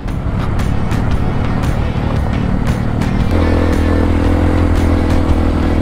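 A motorcycle engine drones loudly and continuously on a broken concrete road, with rattling clatter from bumps. The engine note shifts partway through as the ride continues.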